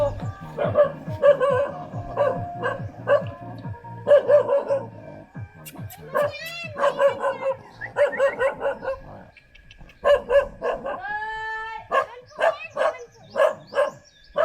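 A dog barks again and again in fast bursts at close range, with some yips and a whimper in between. People talk underneath at times.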